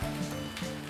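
Boiled yellow potato bhaji being tossed and stir-fried in a hot pan, a steady close sizzle running throughout with faint scraping of the spoon, no voices.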